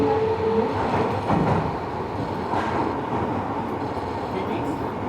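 A Tobu 70000 series commuter train runs between Naka-Meguro and Kita-Senju, a steady close rumble of wheels and motors inside the car with faint rail clatter and no speech.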